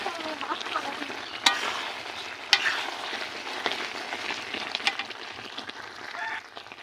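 Mango pickle with spices is stirred in a pan, a soft, low sizzle with quiet scraping and occasional sharp clinks of the spoon against the pan.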